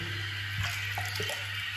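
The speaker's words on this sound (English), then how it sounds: "I add some water." Water splashes and trickles briefly at a sink while shaving with a straight razor, small wet bursts over a steady low hum, fairly close and quiet.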